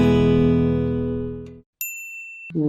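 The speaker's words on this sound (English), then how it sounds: "Sorry, Carol, that's my phone." A phone notification ding cuts in over a podcast's sustained closing music, a short bright chime standing alone for about a second after the music fades, followed by the start of another tone.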